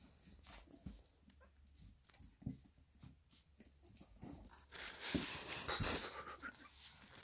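Staffordshire terrier puppies pant and whimper close by, with quick soft breaths, small whines and occasional rustling and handling noises, the sounds growing busier toward the end.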